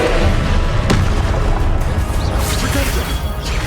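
Confringo blasting spells explode in Hogwarts Legacy combat, producing dense, loud, continuous booming and crashing with one sharper impact near the start and no letup throughout.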